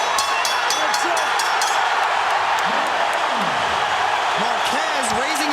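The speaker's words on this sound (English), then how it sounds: "Listen to the crowd, folks." A boxing arena crowd roars continuously at a Manny Pacquiao–Marquez fight, a dense loud wash of cheering with sharp claps near the start, while a ringside commentator talks over it.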